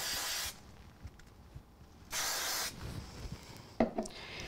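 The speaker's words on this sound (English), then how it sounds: "I think I'll do just a spray glue" Spray glue hisses from an aerosol can onto card in two short bursts of about half a second each, close and loud, followed by light handling and rubbing noises.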